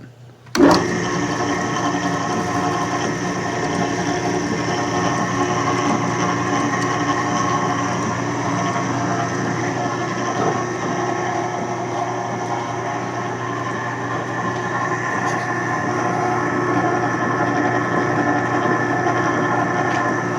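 A homemade can crusher starts with a sharp clunk and then runs continuously with an even mechanical whir and hum, fairly loud and steady throughout.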